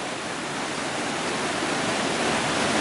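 Crvena Reka, a mountain river in Pelister National Park on Baba Mountain that is fed by melting snow, rushes with a dense, steady roar of flowing water, close and loud throughout with no voices.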